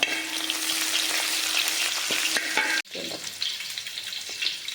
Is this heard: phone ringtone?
no